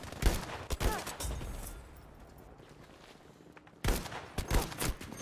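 Gunfire in Battlefield 5 on the Narvik map: a few sharp shots at the start, a quieter stretch, then another burst of rapid shots near the end, with no talk over it.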